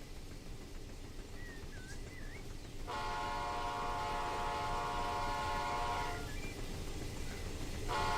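An Amtrak Auto Train passes in the Run 8 train simulator game, with a rising rumble of rail cars and a sustained, loud multi-tone horn blast, a short toot beforehand and another near the end.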